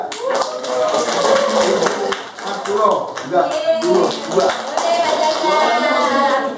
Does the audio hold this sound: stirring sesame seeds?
no